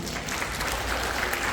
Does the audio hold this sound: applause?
yes